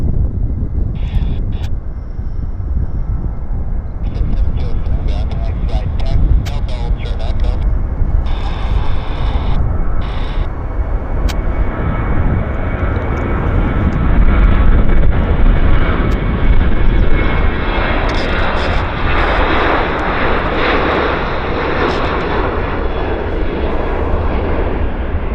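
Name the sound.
American Airlines jet taking off at Vancouver airport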